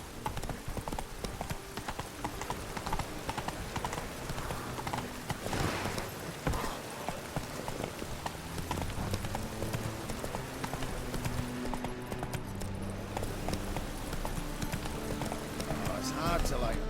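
In The Witcher 3: Wild Hunt, a horse gallops with rapid, rhythmic hoofbeats clip-clopping throughout, close and steady, mixed with game music and a voice speaking over it.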